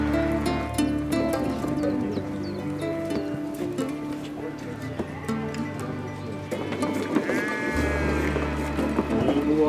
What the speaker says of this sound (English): some of the sheep need to be milked